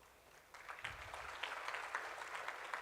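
An audience at a biotechnology summit in Gujarat breaks into steady applause, a dense wash of clapping that rises and holds for a few seconds.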